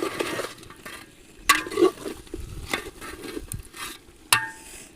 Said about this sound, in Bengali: কষানো মশলার মধ্যে ভেজে রাখা আলুগুলো দিয়ে দিচ্ছি।